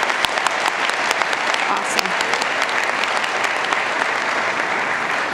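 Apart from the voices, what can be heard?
audience applause for graduates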